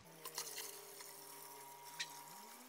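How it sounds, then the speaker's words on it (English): Reverse-osmosis water being poured in to top up a small koi pond, a steady trickling, splashing flow heard close by with a couple of brief louder splashes, and no voices. "And now I just top it up with some RO water."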